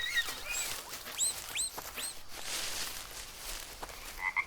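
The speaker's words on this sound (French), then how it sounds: "Une grenouille." A frog in the jungle survival game Green Hell gives a run of short, chirpy croaks amid soft rainforest ambience, several calls clustered early and another near the end.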